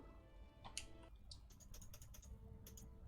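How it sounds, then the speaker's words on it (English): Computer keyboard keys clicking in rapid, irregular bursts of typing, faint and close, with no talking. "I can hear you clicking."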